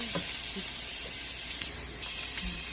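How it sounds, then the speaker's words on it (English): Onions fry in a pan in a brief, continuous hissing sizzle at moderate level, with faint stirring clicks and no speech. "So onion is not fully caramelized"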